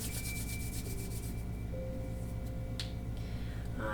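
Two hands rub briskly together during a seated chair yoga session, a soft, repeated swishing friction close by over a low background hum, without speech.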